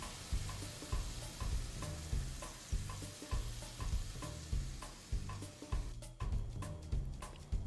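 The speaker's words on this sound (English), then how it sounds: "Listen for that sizzle though." Cajun shrimp sizzle in a hot pan, a quiet continuous hiss broken by regular scraping and clinking as the shrimp are stirred.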